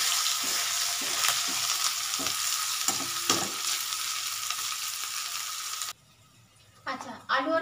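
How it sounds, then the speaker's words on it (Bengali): Garlic and spices sizzle in a pan for a tangra fish curry, with a steady frying hiss and rhythmic scrapes of stirring for about six seconds before the sizzle cuts off and a voice briefly speaks. "একটু নাড়ি।"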